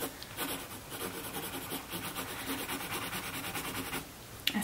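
A pencil shading a skull drawing on paper with heavy pressure, a steady close scratchy rubbing that continues for several seconds, then a brief pause and a sharp scrape at the end.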